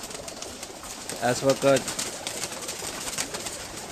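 Pigeons coo on a bred-pigeon rooftop loft in Kharian, with a brief rhythmic burst of low coos rising above steady background noise while someone speaks.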